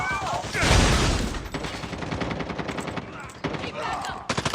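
Pistol gunfire in a first-person shooter game match: rapid, sharp shots in bursts, loud and close, mixed with game effects and brief voice callouts.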